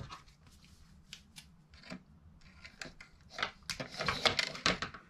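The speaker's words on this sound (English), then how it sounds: "I need to actually take out some fluorocarbon and cut it off the spool" Fluorocarbon fishing leader, 50-pound, is pulled off its spool and cut, giving soft close rustles and small clicks that build toward denser snipping and handling sounds near the end.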